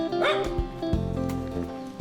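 A rescued puppy from a settlement whimpers and yips in a short, close sequence of high whines and soft little barks, plaintive and continuous over a couple of seconds.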